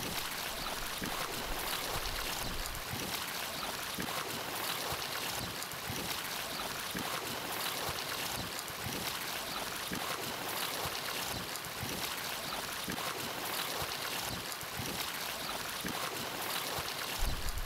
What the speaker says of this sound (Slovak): Pracovník rybárstva odstráni dosky z tzv. Pažeráka a táto voda začne pekne pretekať.